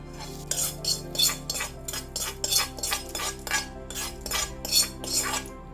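Sambar being poured and mixed into cooked rice in a pot, heard as a steady run of repeated utensil scrapes and clinks against the pot, close and moderately loud with no talking.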